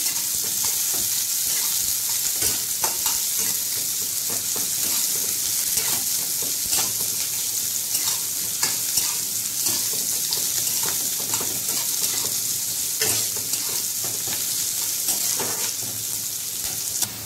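Chopped onion and two green chillies frying in a pan, a loud, continuous bright sizzle with dense crackling and occasional stirring knocks throughout, no one speaking.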